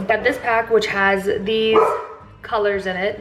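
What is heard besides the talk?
dogs barking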